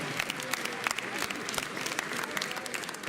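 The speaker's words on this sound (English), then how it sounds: "Everybody give these three guys a round of applause." Audience applause at a high school prom mentalism show, a steady, dense burst of many hands clapping that fills the room for a few seconds without a pause.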